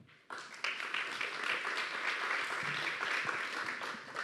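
Audience applause bursts in suddenly and holds as a dense, even wash of clapping for about four seconds at a public debate on France's ageing population.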